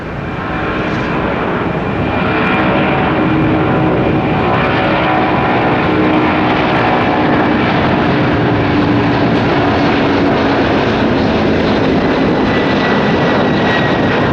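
A FedEx MD-11 heavy jet takes off from Tampa runway 19 right, its engines swelling into a loud, sustained roar that holds broad and steady for the whole stretch.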